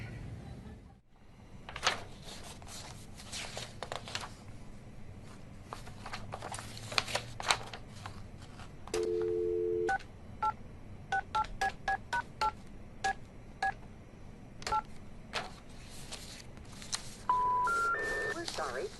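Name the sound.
telephone number being dialed, touch-tone beeps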